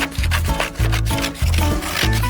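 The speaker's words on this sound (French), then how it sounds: "Je découpe." Material being cut by hand for a dollhouse, with loud, close, rhythmic scraping strokes repeating roughly twice a second, like sawing back and forth.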